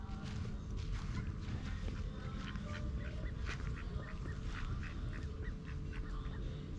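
Ducks in a restaurant garden in Hungary, repeated quacks and honking calls scattered across a continuous low outdoor rumble, moderately distant and fairly faint.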